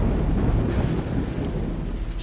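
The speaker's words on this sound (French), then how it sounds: "vous entendez un éclair" Thunder rumbling through steady heavy rain, a sound effect in a horror tabletop role-playing game, a continuous loud storm wash with deep rolling low end and no voices.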